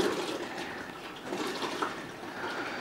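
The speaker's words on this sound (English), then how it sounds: "And there's the rest of the coolant." Coolant runs out of a disconnected oil cooler hose on a VW Mk5 GTI during an oil filter housing replacement, a steady close splashing trickle that continues without a break.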